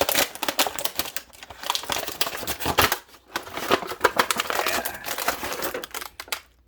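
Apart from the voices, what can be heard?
ripping open the packaging of a Mattel WWE figure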